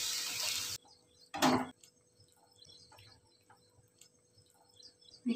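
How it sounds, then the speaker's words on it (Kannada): A glass of water goes into cabbage palya frying in a pan, a loud hissing splash lasting under a second, then a second short burst, followed by near quiet with faint background noise. "5 ನಿಮಿಷ ಫ್ರೈ ಆದಮೇಲೆ ಒಂದು ಗ್ಲಾಸ್ ನೀರು ಹಾಕಿ"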